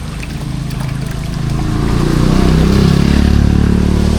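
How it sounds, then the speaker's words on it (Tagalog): A loud, steady rush of fast-moving floodwater, churning low and heavy and swelling slightly stronger as it goes on. "Yung medyo malakas ang agos."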